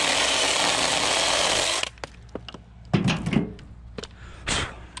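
A Taranzy mini cordless chainsaw cuts through wood with a steady, dense buzz for about two seconds, then cuts out, leaving scattered knocks and clattering of wood pieces nearby.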